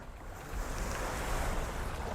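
Ocean waves wash and surge against a fishing boat on open water, a broad steady roar with wind noise buffeting the microphone, rising in strength after a moment, with no voices.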